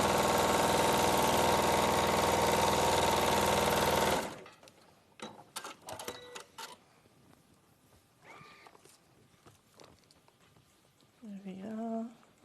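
A sewing machine stitching fabric runs in a fast, steady loud whir for about four seconds, then stops, leaving handling clatter, a few short noises and a voice.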